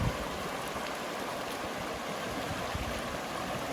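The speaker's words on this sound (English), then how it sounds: "Look at this beautiful river." Steady rushing water of a river in Sedona, Arizona flows without a break, a broad, even wash of sound with no voices.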